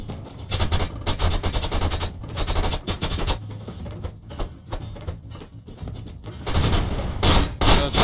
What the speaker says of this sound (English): Alright, try shooting me now.